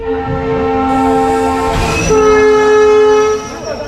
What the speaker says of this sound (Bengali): দুটো ট্রেনই আর ছাড়বে দুটোরই হুইসাল দিচ্ছে